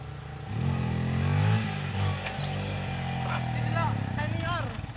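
Yamaha Vixion motorcycle engine revving up and holding a steady throttle, then rising again in short blips, close and fairly loud with people talking over it.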